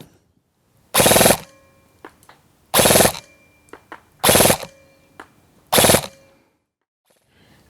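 A toy dart blaster on an adjustable Picatinny rail fires four loud, rapid bursts of darts, each a rattling full-auto volley spaced about a second and a half apart, with faint mechanical clicks between them.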